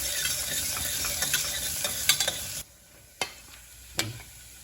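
Garlic and ginger sizzle in a hot pan for a dal, a dense steady frying hiss with stirring scrapes, then the sizzle drops off sharply, leaving a quiet pan with a few isolated clinks.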